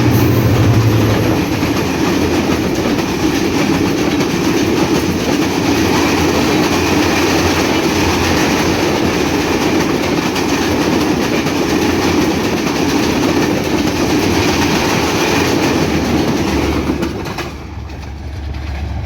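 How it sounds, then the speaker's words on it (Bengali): Kopotaksha Express passenger train from Khulna to Rajshahi, hauled by an 86 8 series locomotive, roars past loudly and close with steady rushing rail noise and wheel clatter for the whole stretch, easing slightly at the very end. "86 8 সিরিজের লোকোমোটিভ নিয়ে খুলনা থেকে ছেড়ে আসা রাজশাহীগামী কপুতাকো এক্সপ্রেস এই মুহূর্তে ছুটে যাচ্ছে রাজশাহী অভিমুখে"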